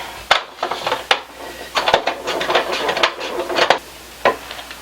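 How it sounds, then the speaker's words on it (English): Potatoes pushed across a mandoline slicer with a straight blade, cutting thin chip slices about an eighth of an inch thick, heard as a loud, close series of repeated scraping, slicing strokes with a few sharp knocks. "So this is the mandolin that we use."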